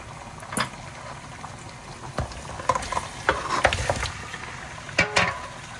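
Turkey neck dropped into a stovetop pot of hot oil and garlic, bubbling and sizzling steadily at close range, with scattered sharp pops and clinks of stirring throughout.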